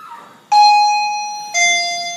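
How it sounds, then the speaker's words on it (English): Old OTIS elevator modernised by Schindler in Wellington, its loud arrival chime sounding two clear bell tones in succession, the second slightly lower, each ringing out and slowly decaying. "And its chime is so loud."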